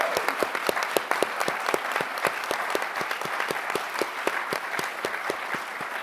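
Steady audience applause welcoming a speaker at a human rights law conference panel, dense even clapping throughout with sharp individual claps standing out, no talk.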